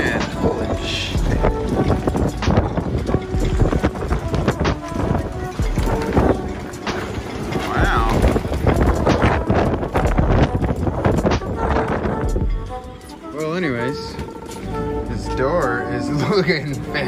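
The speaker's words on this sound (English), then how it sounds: "and so is this wind" Strong wind gusting over a liveaboard sailboat moored in Oregon in springtime, a steady loud roar buffeting the microphone throughout, with people talking over it.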